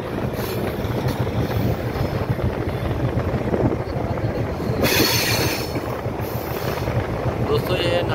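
Pakistan Railway train running on the Harnai section in Balochistan, crossing near the Nari Gaon dam: a steady, continuous rumble of wheels and carriage noise close by, with a brief brighter swell midway and no voices.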